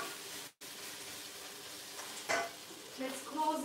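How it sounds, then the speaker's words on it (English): Potatoes sauté in a pan with a soft, steady sizzle and some faint clinks and stirring scrapes, quiet and close over a few seconds. "So I'm gonna continue to saute the potato."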